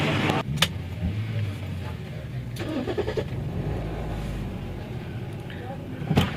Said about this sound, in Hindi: तो गाड़ी करते हैं स्टार्ट अभी